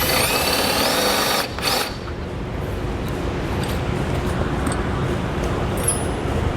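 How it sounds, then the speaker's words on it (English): A power drill with a 1/2 inch bit boring through the bumper beam of a 2013 Jeep Grand Cherokee, loud and close. A high whine cuts off after about two seconds, and a lower grinding hum then runs steadily, with no talking. "going to have to drill through the bumper core or bumper beam"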